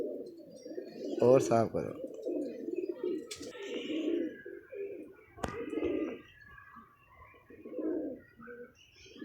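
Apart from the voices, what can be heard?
pigeons cooing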